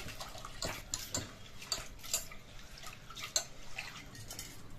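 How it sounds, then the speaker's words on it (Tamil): Palak spinach leaves are swished and rinsed in water in a kitchen vessel, with soft sloshing, drips and occasional light clinks of the container, all fairly quiet. "பாருங்க, இப்போ தண்ணி சேர்த்து ஒரு 2-3 வாட்டி நம்ம நல்லா கழுவி எடுத்துக்கலாம்"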